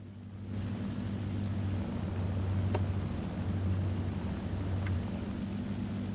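Steady engine drone from a vehicle in the video game War Thunder, a loud continuous low hum with a couple of faint clicks, running alone throughout.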